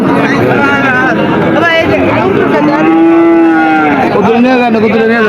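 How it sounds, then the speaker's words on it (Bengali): Cattle, including a local bull, low repeatedly at the Aricha livestock market in Bangladesh, with loud, close, drawn-out moos rising and falling over constant crowd murmur. "দেশি ষাঁড় গরু।"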